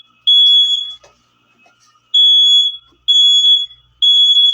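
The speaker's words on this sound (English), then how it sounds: "Excuse the fire alarm." Household smoke alarm with a low battery gives loud, piercing electronic beeps in four long bursts with short gaps between them, heard alone with no talk.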